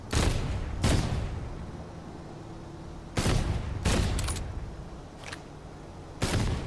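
Automated base turrets firing in the sci-fi shooter Outpost: Infinity Siege, sharp cracking volleys in irregular bursts separated by quieter gaps, moderately loud over a low ambient hum.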